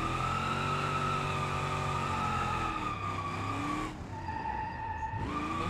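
Tires squeal in long sustained skids as a car drifts in BeamNG, the engine droning underneath, with the pitch sliding and breaking briefly mid-slide before the screech resumes, loud and close.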